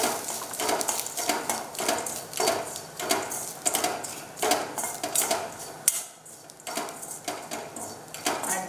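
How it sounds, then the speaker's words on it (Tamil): A mixer grinder gives roasted gram a few brief pulses, producing repeated short bursts of rattling, whirring grind at a steady rhythm, close and fairly loud, with no talk over it. "மிக்சியில் சும்மா ஒரே ஒரு சுத்து மட்டும் விடுங்க"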